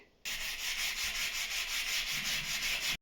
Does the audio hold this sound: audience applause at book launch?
no